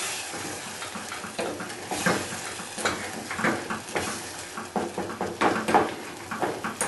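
Plain minced beef frying in a pan while a spoon stirs it around, a steady close sizzle broken by repeated scraping and clattering strokes, with no voices.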